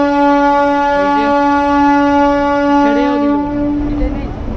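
A Howrah-Digha local train sounds its horn in a loud, sustained, near blast while the train runs, with faint voices underneath.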